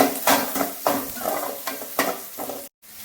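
Onions sautéing with garlic in a pan: repeated scraping and stirring strokes over a close sizzle, with a few light utensil knocks, then a brief silence near the end.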